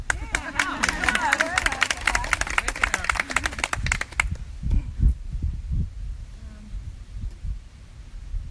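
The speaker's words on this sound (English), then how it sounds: "Hey, we can clap." An audience claps together in a dense, lively burst that thins into a few scattered claps and fades, with a voice briefly heard near the end.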